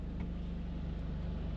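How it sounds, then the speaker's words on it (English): A Toyota GR Corolla fitted with a Cusco pitch mount idles low and steady as it rolls to a stop, a constant droning hum with no speech over it. "Coming to a stop, just idling to a stop."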